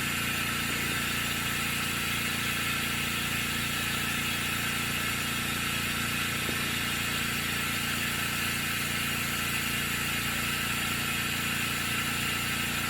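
A Specialty Coating Systems G3P-12 spin coater running at 2,000 RPM, with a steady mechanical hum and a fine rapid pulsing whir, constant and close, with no change over the span and no talk.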